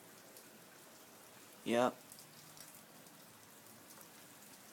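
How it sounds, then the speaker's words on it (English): Steady rain on a cold spring day makes a soft, even hiss throughout, with one brief spoken word partway through. "Rain's coming."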